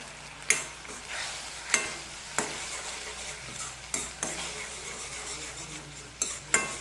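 Onion fries with coriander in a pan, a soft sizzle running underneath while a utensil scrapes and taps the pan in regular strokes about once a second, close and clear.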